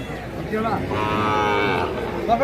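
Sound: cow mooing

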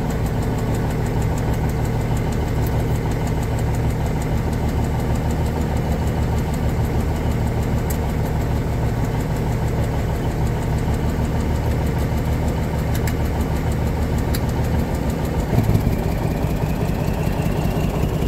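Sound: Cummins Big Cam diesel engine running in 1985 GMC General

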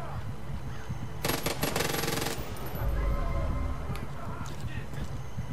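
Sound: SMG gunfire in the video game Far Cry 5

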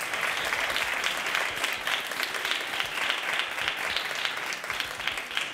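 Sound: audience applause for quiz show participants

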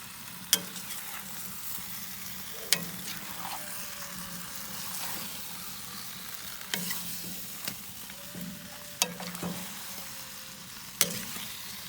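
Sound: potatoes and meat frying in pan

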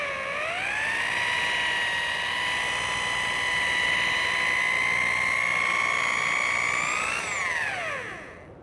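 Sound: rotary polisher buffing car paint at about 7,000 RPM

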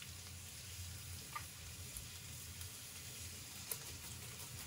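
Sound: garlic grated into a pan with rendered pepperoni, sizzling

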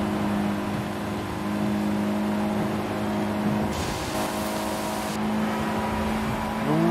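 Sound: car engine revving to the limit in video game Forza Horizon 5

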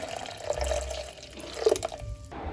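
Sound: beer being poured

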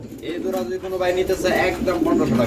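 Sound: red checker racing pigeon cooing

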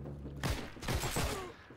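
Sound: gunshot from video game Heroes & Generals, STG 44

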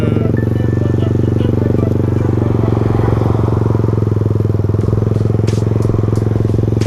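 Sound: Kawasaki KSR motorcycle engine running

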